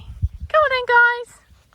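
Labrador puppies out in a garden give a brief, high whimpering whine, two close drawn-out tonal cries with a break between them, over low rustling background noise.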